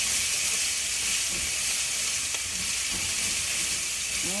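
Ginger, garlic and green chilies hit hot oil in a pan over medium heat for cabbage and potato sabzi, giving a loud, steady hissing sizzle with faint stirring scrapes, no talking.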